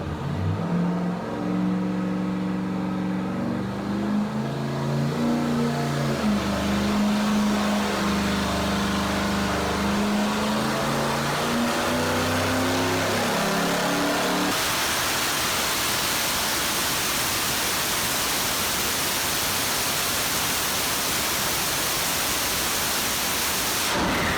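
A turbocharged LS V8 engine on a dyno roars at wide open throttle, pitch sweeping upward steadily under load, then gives way to a loud broadband rush of air and noise.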